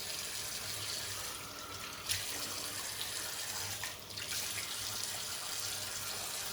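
Cold water runs steadily from a tap into a sink for shaving, a constant soft hiss and splash heard close and moderately quiet, with no talking and only slight shifts in the flow.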